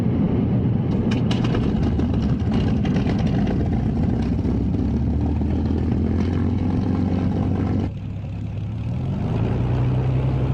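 A Hawker Hurricane fighter's piston engine starts and settles into an idle, its loud, rough running continuous throughout, with the engine tone dipping and shifting pitch near the end.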